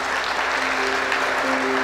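An audience at a school graduation ceremony applauds warmly to welcome the school director, a steady moderate clapping that continues throughout with a faint sustained tone underneath.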